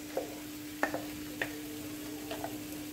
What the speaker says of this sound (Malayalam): ആദ്യം ആ പേസ്റ്റ് അങ്ങ് ഇടാം.